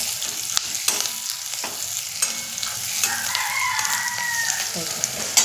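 Peanuts and onions roasting together in a pan for kande pohe, a Maharashtrian breakfast dish: continuous frying crackle with scattered utensil scrapes and clinks, and a faint voice or bird sound partway through.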